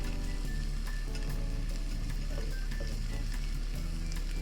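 Bacon, tomato and onions fry in a pan with a steady, close crackling sizzle and occasional stirring scrapes, continuous throughout with no voices.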